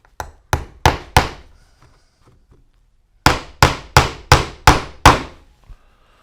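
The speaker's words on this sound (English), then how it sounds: "I'm just going to nail that right to my woodworking board." A hammer drives a nail into scrap wood resting on a woodworking board, with four sharp, evenly spaced blows, a pause, then six more loud, ringing strikes close by and a final lighter tap.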